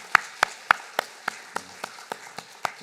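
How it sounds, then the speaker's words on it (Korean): Sparse clapping from a church congregation during a Sunday worship service, about ten distinct, fairly sharp claps in an uneven, slowing rhythm, near and moderately loud in a quiet room. "박수로 하나님 앞에 영광 올려드리겠습니다"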